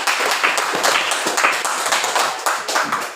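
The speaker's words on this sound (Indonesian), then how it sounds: "Tepuk tangan dulu untuk Ibu Sri Mulyani." An audience claps for Sri Mulyani, Indonesia's finance minister, during a school teaching-practice session at HKBP Nommensen: dense, steady hand-clapping with scattered sharp claps, sustained for several seconds with no talk over it.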